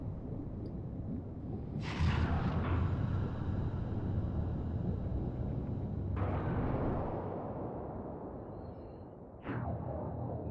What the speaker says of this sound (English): That's the cause of the giant explosion.